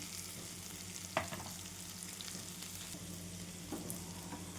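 Onion fries in a pan with ajwain just added, a steady low sizzle and hiss with a couple of faint stirring scrapes, fairly quiet throughout.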